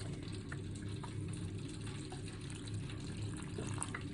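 Filtered water pours steadily into a fish batter of buttermilk and cornmeal in an antique bowl, a continuous soft splashing trickle close by, with no talk.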